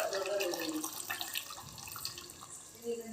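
Water pours from a glass into a pan of curry with its masala and coconut powder, a close, continuous splashing trickle that fades slightly before a short final splash.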